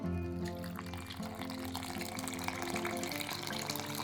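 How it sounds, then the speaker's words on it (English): Lukewarm water, 300 millilitres, poured into flour for pizza dough, a steady close trickling stream running continuously without pause. "So here we have 300 millilitres of Southeast London's finest water, and it's at lukewarm temperature."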